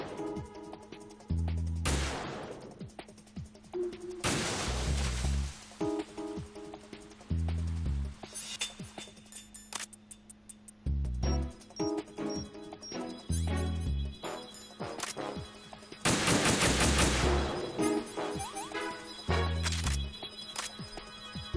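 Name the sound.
gunfire while sniping with PSG-1 in video game Metal Gear Solid 2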